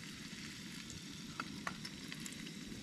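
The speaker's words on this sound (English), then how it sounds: "I can hear the sizzle now." Faint, steady sizzling and crackling of fish frying in a pan at a jungle campsite, with a few soft pops and clicks over the continuous hiss.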